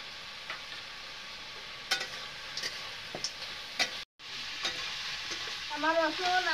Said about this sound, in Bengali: তো আমি এখন আমার আদা রসুন পেঁয়াজ বাটাটা আমার ভালোভাবে ভাজা গেছে, তেল ছাড়ছে।